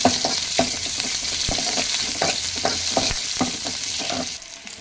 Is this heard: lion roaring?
no